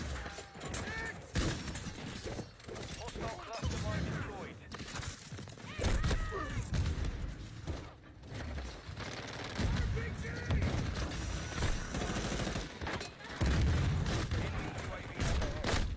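Shotgun blasts and other gunfire in a video game, repeated heavy booms and impacts scattered through a busy battle, with a player talking and cursing over them.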